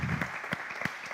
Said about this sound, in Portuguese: eu quero aplaudir a Deus pela vida de vocês